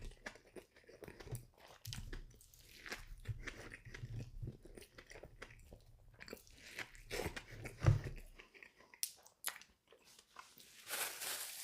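Someone bites and chews a spicy Big Fish sandwich from Burger King, with close, soft crunching and chewing noises that run through the clip and one sharper bite near the end. No one speaks.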